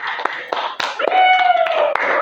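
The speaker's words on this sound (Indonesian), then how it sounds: "Tepuk tangan untuk kelompok 3." Students clap in a classroom for a winning group, with quick bursts of hand claps mixed with close voices talking over them.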